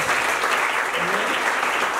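An audience at a Bible quiz contest event claps steadily in sustained, dense applause that fills the space, with some voices faintly mixed in.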